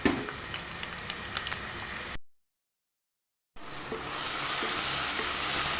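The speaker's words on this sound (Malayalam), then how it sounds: "ചൂടായി കിടക്കുന്ന സൺഫ്ലവർ ഓയിലിലേക്ക് നമുക്ക് നമ്മുടെ സവോളനെ നമുക്ക് വറുത്ത് കോരിയെടുക്കാം" Sliced onions sizzle and crackle in hot sunflower oil in a pan for a Kerala prawn biryani, a lively frying hiss that cuts out briefly and then returns steadily louder.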